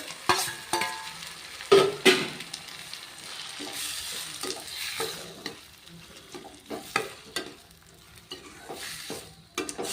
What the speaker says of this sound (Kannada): ಗೋಲ್ಡನ್ ಕಲರ್ ಬರೋವರೆಗೂ ಫ್ರೈ ಆದ್ರೆ ಈರುಳ್ಳಿ ಚೆನ್ನಾಗಿರ್ತದೆ